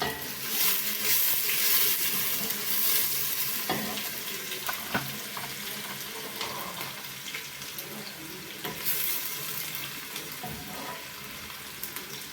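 Steady sizzling of beef frying in a pan, a continuous crackling hiss with occasional clinks of a utensil stirring.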